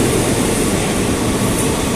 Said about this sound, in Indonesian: Oh, ada kereta bandara lewat di seberang.